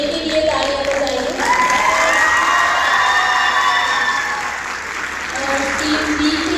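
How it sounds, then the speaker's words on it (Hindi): Audience at a university debate grand final in Lahore applauds and cheers for a team, a dense, sustained wash of clapping with whoops and shouts over a steady crowd roar. "सो टीम ए के लिए तालियां बजाइए"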